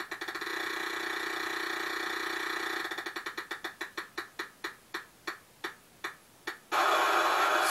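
A spinning prize wheel in the Sega Genesis Wheel of Fortune game: a steady electronic whir breaks into rapid clicks that slow and spread out until the wheel stops. A bright synthesized tone follows, with no talking.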